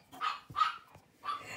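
Several dogs squabbling indoors let out three sharp, fairly close barks in quick succession, with a short gap before the last one.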